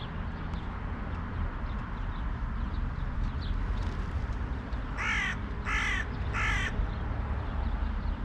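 Three loud, close caws from crows come in quick succession after several seconds of outdoor background noise, with no talking.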